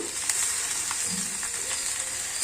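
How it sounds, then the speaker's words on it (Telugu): Tempering spices fry in hot oil for a banana flower stir-fry, giving a steady close sizzle and crackle with a few faint clinks of a utensil. "చూడండి పోపులు అయితే వేగుతున్నాయి"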